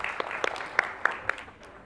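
Light, sparse applause at an FCPS school board meeting, a handful of distinct claps over a soft background wash, brief and thinning out quickly.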